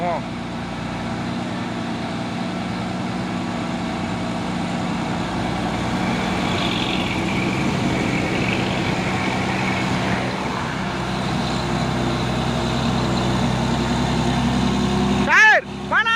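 A tanker truck on an Indonesian road rumbles past with a steady low engine drone and road noise, a continuous heavy hum lasting throughout, ending with a brief louder clunk near the close.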